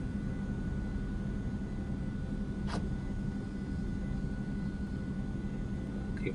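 An Eclipse 550 NG jet taxiing to parking in the X-Plane 11 flight simulator, with a steady, loud engine whine and broadband roar, plus one brief higher tone partway through.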